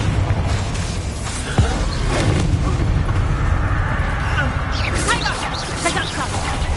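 A Confringo fire-blast spell explodes in the video game Hogwarts Legacy, giving a sharp boom within a rumbling, crackling battle din while a voice speaks over it.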